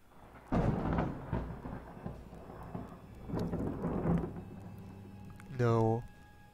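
Thunder rumbles outside during a storm with rain, deep rolling booms rising and fading twice, ending with a sharp tonal swell, fairly loud.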